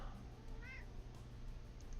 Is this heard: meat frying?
no